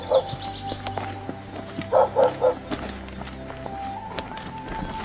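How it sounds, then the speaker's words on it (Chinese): A dog at a remote mountain house deep in a forested valley gives a quick burst of three or four barks at a moderate distance, with birds chirping and faint background sounds around it. "已经有狗叫唤了，应该有人居住"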